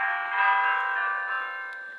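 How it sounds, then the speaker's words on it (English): A bell rings near the Colosseum in Rome around midday, a sustained metallic tone with shimmering overtones that swells slightly and slowly fades, clear and moderately loud with no talking over it. "Anybody know what this bell means?"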